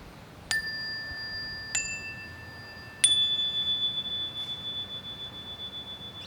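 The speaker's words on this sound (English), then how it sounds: "we're going to listen carefully for that chime" A chime is struck three times in an otherwise quiet room during a children's yoga session, each clear metallic ring overlapping the last, with the third ring sustaining and slowly fading.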